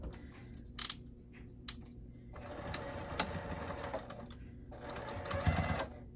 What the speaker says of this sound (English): I'm just stitching right next to the edge of the collar here